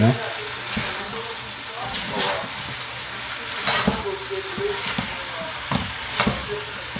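Shrimp fry over high heat in a pan while being stirred, a close, constant sizzle punctuated by repeated scraping and clattering strokes of the spoon, with no speech over it.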